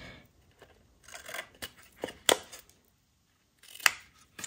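Scissors trimming small pieces for a paper flower box, giving a scattering of short crisp snips and light handling taps up close, with one sharper cut standing out and no voices.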